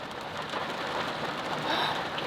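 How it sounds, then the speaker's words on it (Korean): A sudden heavy rain shower pours down on a campsite, a dense, steady hiss of drops drumming on surfaces, close and continuous with no voices. "갑자기 비가"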